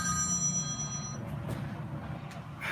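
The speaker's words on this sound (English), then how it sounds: "somebody call me right as I'm doing my show." A telephone rings during a live show, a faint electronic ringing tone that starts clear and fades, with some soft clicks and room noise behind it.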